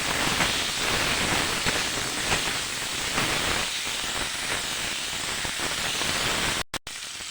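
Mixed vegetables with peas, tomato, salt and turmeric fry in a pan for khichuri, giving a steady loud sizzling hiss throughout with a couple of brief dropouts near the end.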